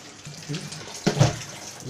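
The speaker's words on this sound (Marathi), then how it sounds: "चला मग आपण आता पहिल्यांदा शिंपल्या सगळे धुवून घेऊयात पाण्याने।" Water runs from a tap in short splashy bursts as muddy clams are washed, with a brief louder gush midway and a voice speaking briefly.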